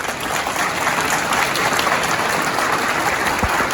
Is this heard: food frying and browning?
no